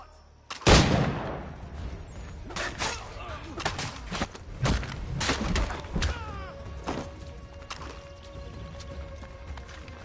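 Gunshots in Assassin's Creed 3: a sharp loud crack, then a scattered volley of shots and thuds with clattering movement and voices mixed in.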